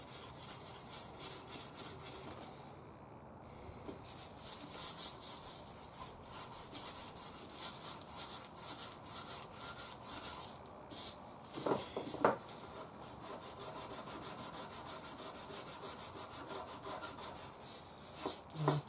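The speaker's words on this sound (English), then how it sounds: "This is coarse steel wool." Coarse steel wool scrubs the surface of an old Zenith Boomerang radio during restoration, a rapid rhythmic scratchy rasping in quick back-and-forth strokes, close and steady, pausing briefly partway through.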